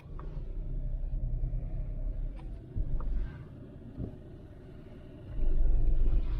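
A used car on a test drive after a dealer auction, its engine a low, steady rumble that dips in the middle and swells again near the end, heard alone without speech.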